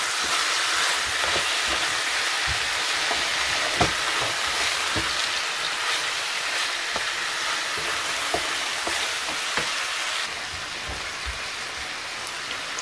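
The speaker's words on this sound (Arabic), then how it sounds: "حتى تحمر لي مزيان داك البصله وانا كنحرك فيها" Onion frying in a pan with a steady, dense sizzle throughout, broken by a few soft clicks as it is stirred; close and fairly loud, with no talking.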